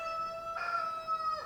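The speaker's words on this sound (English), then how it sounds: "Hey! Shut up, rooster." A rooster crows once, a clear sustained cock-a-doodle-doo heard at moderate distance over a quiet background on a rural building site.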